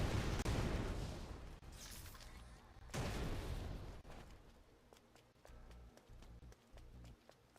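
Explosions in the Stellar Blade video game, two heavy, loud blasts about a second and a half apart, each decaying into rumble, followed by quieter rapid clicks and impacts, with no talking.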